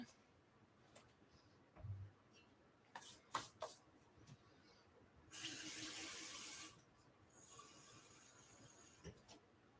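A tap gushes water in a loud burst lasting over a second, preceded by a few light kitchen clatters and followed by softer running.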